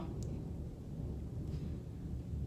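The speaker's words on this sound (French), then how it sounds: "vous entendez l'orage?" Thunder rolls in a summer storm, a low continuous rumble lasting the whole moment, moderately loud with no one speaking.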